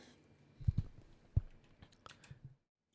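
Close, quiet keystrokes on a mechanical keyboard fitted with long-pole KTT Hyacinth switches, a few soft thocky clicks in a short irregular burst, then a brief patter of lighter taps before silence.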